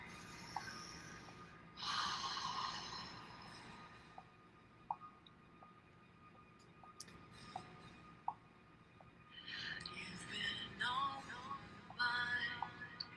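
A slow deep breath drawn in through the nose, a soft close airy inhale followed by quiet breathing and faint clicks, no talking.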